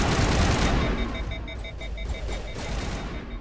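Gunfire from an overheating weapon in the video game Mass Effect: Legendary Edition, a loud rapid burst that fades into a train of evenly spaced electronic clicks and faint shots.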